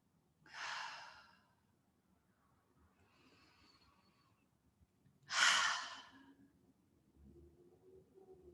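Two deep breaths during a guided meditation, each a loud, close, airy exhale like a sigh, separated by a softer faint breath and quiet stillness.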